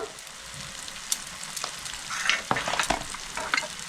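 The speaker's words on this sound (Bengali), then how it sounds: "দিয়ে ভালো করে মিক্স করে নিচ্ছি" A spoon scrapes and stirs turmeric, cumin, chili and coriander paste loosened with water in a pan for a fish curry, soft sizzling beneath irregular scraping strokes that grow louder toward the end.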